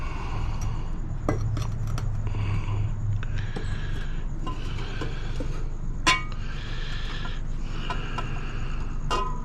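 A metal gold stock pot being rinsed and swirled with water, giving close, intermittent clinks and knocks over a sloshing, rushing wash.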